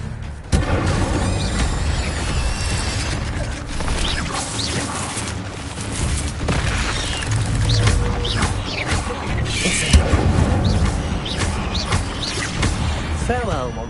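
Fire spells cast repeatedly in a Harry Potter video game fight against spiders: continuous roaring, crackling bursts with booms and whooshes, and a voice calling out spell names over the din.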